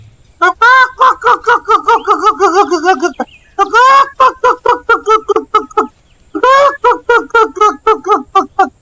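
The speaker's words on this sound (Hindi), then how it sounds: "राहुल अपने पापा को देखकर जोर जोर से चिल्लाने और फड़फड़ाने लगता है।" A chicken squawks loudly in rapid, pulsing bursts, with two brief pauses between frantic runs of harsh calls, close up.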